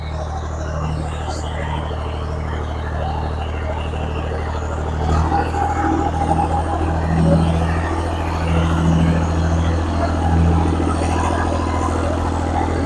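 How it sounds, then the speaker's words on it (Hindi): A tractor engine driving through a village field in Pakistan, a steady low rumbling drone that swells slightly midway, with people talking over it. "वो भी अब ट्रैक्टर चलाने लगा है"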